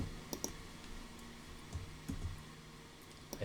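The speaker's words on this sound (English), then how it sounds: "I hit a bunch of keys trying to clean my my keyboard off." Computer keyboard keys click while being wiped clean, a few sharp, scattered taps and small clusters of clicks separated by quiet stretches, close and fairly faint.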